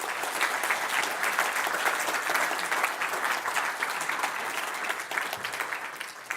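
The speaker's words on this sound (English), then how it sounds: "give me a round of applause" Conference audience applauding after a talk on eBPF, a dense continuous wash of many hands clapping at close range, fading slightly toward the end.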